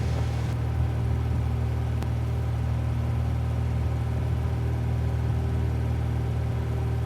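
Steady, loud engine drone from a Cessna 172 climbing out after a soft field takeoff, with strong low harmonic bands holding continuously throughout and no voices.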